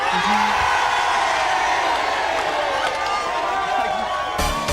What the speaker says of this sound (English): Can we have 500 people cheering the news